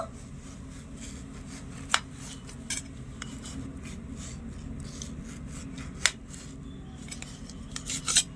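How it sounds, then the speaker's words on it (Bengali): A knife cuts a ripe mango in a kitchen: soft scraping and slicing strokes with a few sharp clicks of the blade against a bowl or plate, quiet and close. "এবারে আমটা একটু কেটে নেবো"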